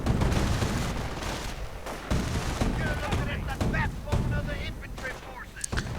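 An anti-tank half-track firing a volley in a World War II strategy game, a burst of sharp, rapid gunshots mixed with distant battle fire, heard under a commentator's voice.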